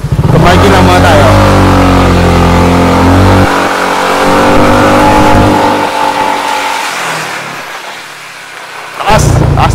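Yamaha Nmax 180cc scooter engine revving and pulling away, a loud, close drone that climbs in pitch, eases off partway through and fades toward the end, with a short burst returning at the close.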